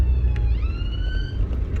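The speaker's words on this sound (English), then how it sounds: "there's the ambulance" An ambulance siren wails in traffic, its rising and falling tone heard from inside a moving car over a low, steady engine and road rumble.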